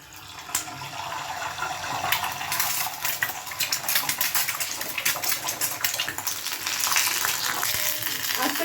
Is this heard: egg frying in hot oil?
yes